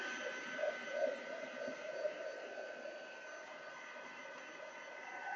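A heat gun blows a steady, even whoosh across gold embossing powder, holding one unbroken tone close to the mic with only slight swells and no voices.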